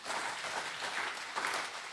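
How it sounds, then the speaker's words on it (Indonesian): Crowd applause at a formal regional council plenary session honouring the mothers, a steady dense wash of many hands clapping for the whole stretch without pause, moderately loud and slightly distant. "Tepuk tangan untuk para ibu."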